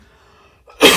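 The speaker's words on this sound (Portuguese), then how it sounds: "Ainda tô com uma tossezinha ainda. Vai, tosse aí." One abrupt, close cough bursts out near the end after a brief lead-in breath, loud and harsh against near silence.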